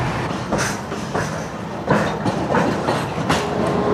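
Rhythmic clickety-clack of the Amrit Bharat Express running on rails between Sealdah and Varanasi, steady rumble punctuated by sharp wheel-joint knocks at a regular pace, loud and close with no talking.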